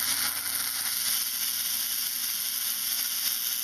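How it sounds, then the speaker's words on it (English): Compressed air being fed into a Jacob's ladder plasma arc gives a steady, continuous hiss with a bright, airy edge. It holds at an even level throughout, with no talking. "I start feeding it compressed air"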